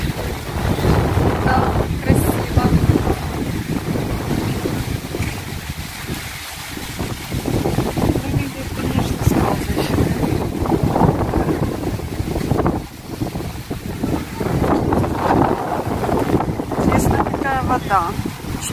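Strong wind gusts buffet the microphone on a beach in Hurghada, Egypt, during a sandstorm, a loud continuous roar with surging low rumble throughout, and people talk briefly in the middle of it.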